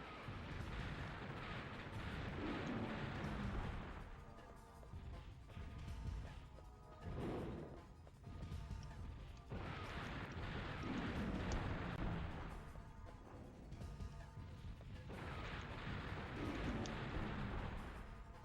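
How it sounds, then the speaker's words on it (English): A missile pod fires in a video game, repeated bursts of heavy blasting and crashing in long loud waves separated by short lulls, distant-sounding and dense with rumble. "Exactly why I bought this missile pod."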